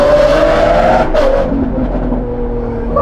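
A Lamborghini fitted with a straight-pipe free-flowing exhaust revs loudly and close by, a sustained high engine note that dips and drops after a second, then settles into a rough rumbling idle.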